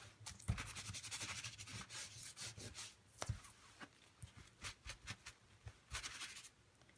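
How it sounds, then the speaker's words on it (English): An old scratchy rag rubs wet paint off a stencilled surface in repeated, close, brisk scrubbing strokes, with short sharp scraping bursts and no talk. "See how scratchy my old rag is? It's scratching the paint right off."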